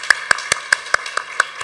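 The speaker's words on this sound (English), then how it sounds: "Please give a round of applause." Clapping at a gavel club night, heard as a steady run of about eight crisp, evenly spaced claps, close and moderately loud, without the dense wash of a large crowd.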